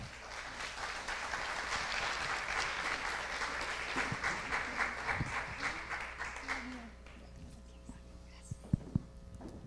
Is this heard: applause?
yes